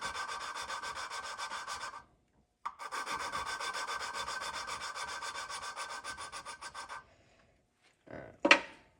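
Lapping compound ground on an engine head valve seat, two long steady gritty rubbing spells near the mic separated by a short pause, then a brief clack at the end.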